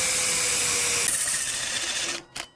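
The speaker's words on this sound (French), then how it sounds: "un coup de disqueuse, un coup de perceuse" A power drill, paired with an angle grinder, bores a hole for a motorcycle screw on a kit bike, running as a steady, loud whir before spinning down, then a brief final burst.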